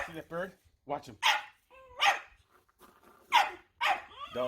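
A dog barks at a turkey vulture in a high desert garden, giving several short, loud barks spread through the clip, with someone talking in between.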